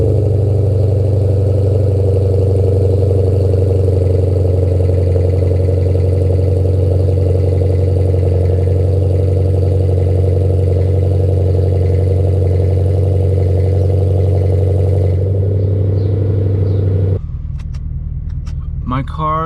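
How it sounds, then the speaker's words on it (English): A Lexus RC F fitted with an ARK exhaust idles steadily while warming up, a deep continuous rumble heard close; near the end the drone drops in pitch and a voice briefly speaks over it. "So as my engine is warming up before I can cut loose, I'm gonna let you guys talk about the exhaust right now."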